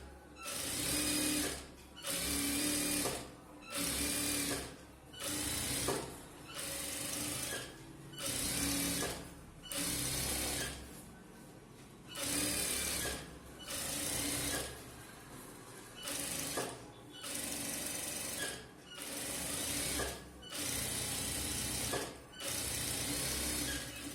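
A sewing machine stitches a churidar top in a tailoring session, running in about a dozen short, regular bursts separated by brief pauses, close and clear with no talk.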